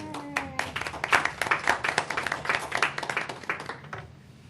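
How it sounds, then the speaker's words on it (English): Applause at a board of education meeting after a motion carries, a burst of hand clapping from the room lasting a few seconds before tapering off. "We can applaud them."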